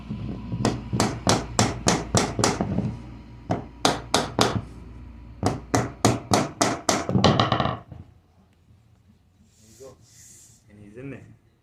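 Hammer striking a tapping block against vinyl plank flooring: rapid bursts of sharp, loud knocks in quick runs of five or six, close up, then stopping as a voice speaks faintly afterward.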